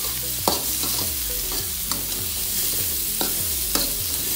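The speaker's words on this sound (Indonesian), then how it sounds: "kita tumis dulu sampai si udang ini berubah warna jadi" Shrimp and chopped spring onions stir-fry in a pan, a steady sizzle broken by repeated sharp scrapes and clacks of a spatula tossing the food, close and clear with no talking.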